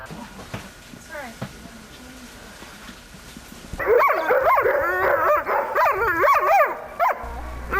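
Several sled dogs bark and yip excitedly in a rapid, overlapping chorus, loud and close, following a quieter stretch with faint voices and background noise.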